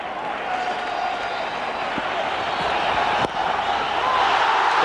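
A cricket crowd cheers and applauds a wicket, a loud, dense, continuous roar of clapping and shouting that holds steady and swells slightly toward the end.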